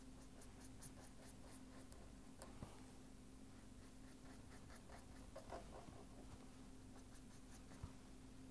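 Pen or chalk scratching steadily as a figure of a hemisphere is drawn by hand during a lecture, a continuous faint scraping texture of strokes with no talking.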